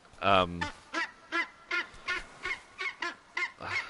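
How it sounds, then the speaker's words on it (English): A bird honks and quacks loudly in a rapid series of about nine harsh calls, evenly spaced and close by. "that is one noisy bird"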